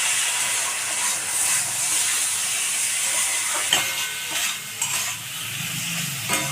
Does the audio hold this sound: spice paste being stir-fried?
yes